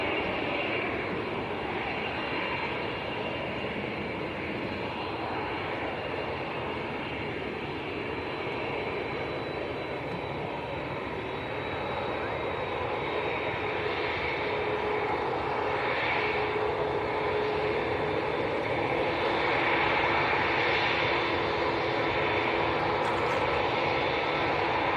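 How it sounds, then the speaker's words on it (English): A Saudia Boeing 787-9 Dreamliner bound for Jeddah taxis at Manchester Airport. Its jet engines give a steady, fairly distant broadband roar that holds unbroken throughout. "Saudi to Jeddah, 787-9 Dreamliner, starting to taxi forwards."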